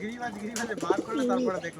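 Old-line Giribaz pigeons, kept for breeding, give a few low rolling coos close by, one drawn-out phrase standing out near the end, with some voice-like murmuring mixed in.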